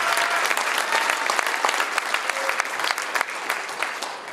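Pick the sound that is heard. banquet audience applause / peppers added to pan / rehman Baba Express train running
banquet audience applause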